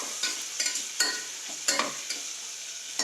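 Homemade black masala, chili powder and turmeric being stirred as they fry in a pan for masala khichdi: a spoon makes repeated scraping strokes over a soft, steady sizzle, close by and with no talking.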